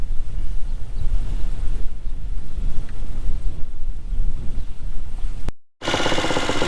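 Strong outdoor wind buffets the microphone with continuous loud low rumbling gusts on a hay farm, then cuts out briefly before resuming.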